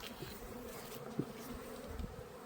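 Honey bees hum around a large, healthy beehive, a faint, continuous buzzing drone with a few individual bees passing close by.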